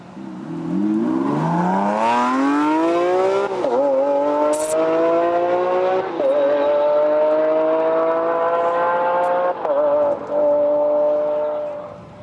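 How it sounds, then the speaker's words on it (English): A supercar's engine roars through a drag-race launch, rising steadily in pitch as it accelerates with brief dips at gear changes, loud and close, with no voices over it. "An engine made that noise."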